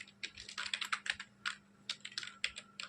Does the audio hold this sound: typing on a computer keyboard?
yes